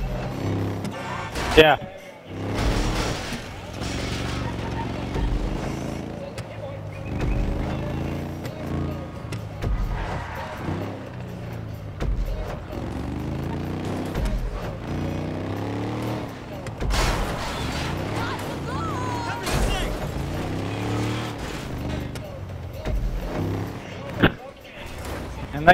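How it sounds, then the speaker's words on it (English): A dune buggy engine hums and revs in a video game as it drives and turns, steady motor drone under near-continuous talk, with a few sharp impact bangs. "This little dune buggy is nice and maneuverable."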